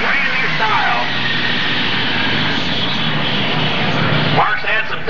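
A John Deere 7800 tractor roars continuously at a 1993 NTPA Super Stock tractor pull in Arcola, Indiana, a loud, sustained engine drone with shifting pitch under an announcer's voice.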